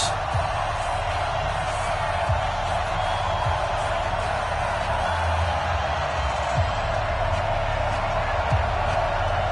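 Stadium crowd in an EA Sports NFL video game with the Kansas City Chiefs and Chicago Bears, a steady roar of massed voices with occasional thumps, under a commentator's talk.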